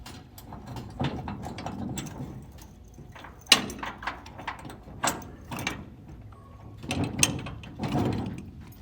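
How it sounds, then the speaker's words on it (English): Locking pins being pulled and wheels removed from a restroom trailer, heard as a series of sharp metallic clanks, clicks and scraping knocks at close range, irregular and loud, with no talking. "So we'll pull these two pins here."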